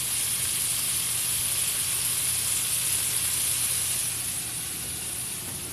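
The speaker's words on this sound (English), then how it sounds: "Let's get in close so you can hear the sizzle." Rice and sausage sizzle steadily in a pan at close range, a loud continuous frying hiss that holds even throughout and eases slightly near the end, with no talking.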